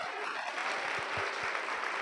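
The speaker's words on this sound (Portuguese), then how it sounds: "E aplauda Ele, glória!" A church congregation applauds God in a dense, steady wash of clapping that holds at an even level throughout, heard from some distance.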